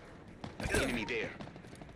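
Halo Infinite gunfire: a short burst of shots in close succession, with a voice speaking over the shooting.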